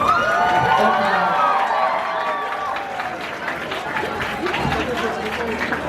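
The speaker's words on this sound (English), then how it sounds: "We're just gonna round of applause for all the contestants." An audience at a Mister Asia pageant cheers and claps for all the contestants, excited shouting at first, then scattered clapping and crowd noise.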